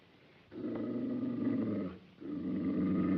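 A dog growls low and rough in a 1935 film, two sustained rumbling growls with a short breath-like pause between them, close and fairly loud.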